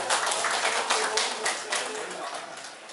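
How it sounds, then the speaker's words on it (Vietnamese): An audience claps in steady applause at a Vietnamese agricultural school class's 45th reunion ceremony, dense and sustained for a few seconds. "Xin quý vị cho một tràng vỗ tay."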